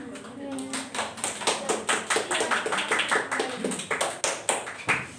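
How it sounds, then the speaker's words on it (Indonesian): A classroom audience applauds group 1 after their presentation: a few seconds of steady, moderately close hand clapping from a small group, without speech. "Beri aplaus untuk kelompok 1."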